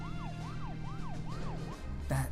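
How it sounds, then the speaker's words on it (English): A wailing vehicle siren from the video game Deadly Premonition sweeps up and down in a steady rhythmic cycle about five times, then cuts off abruptly as a brief louder game sound bursts in. "if you hold left trigger, it enters siren mode and you just go flying"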